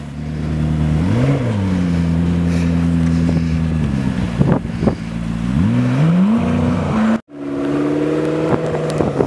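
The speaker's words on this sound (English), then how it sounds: "my friend is driving his McLaren 12C in this" A McLaren 12C sports car drives through deep snow, its engine droning loudly and climbing in pitch as it revs and shifts, with gusts of wind noise and a sudden brief cut near the end.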